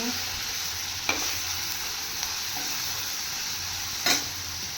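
Ajwain seeds roast in a hot pan with a steady, even sizzle and a few isolated clicks of a utensil against the metal.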